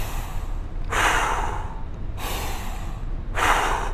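Forceful breaths pushed out during air squats come as three separate rushes of air, close and breathy, spaced about a second apart with soft low noise in between.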